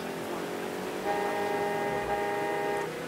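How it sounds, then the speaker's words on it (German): A car horn in Mafia III sounds one sustained blare lasting a couple of seconds over a low engine rumble, moderately loud and alone. "Das ist eine Hupe."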